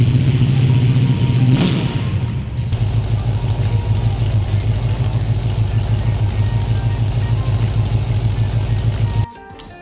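A 1970 Pontiac Firebird engine runs with a loud, steady low rumble and clatter, revs once early on, then cuts out abruptly near the end as the fuel runs out, leaving quiet.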